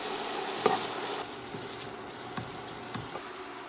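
Onions and sausage sizzling in butter with pierogies in a pan, a soft steady fry with several distinct utensil taps and stirring knocks.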